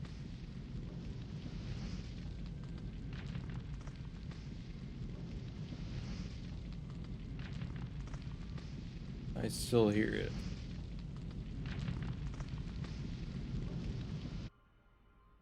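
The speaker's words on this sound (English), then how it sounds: "It's also way too much fire." Roaring, crackling fire effect from a Halo Wars Frontline mod, a steady dense rumble that runs for several seconds and then cuts off abruptly, with a brief sharp burst midway and a voice talking over it.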